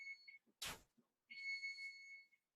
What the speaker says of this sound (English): We're going to turn our timer off.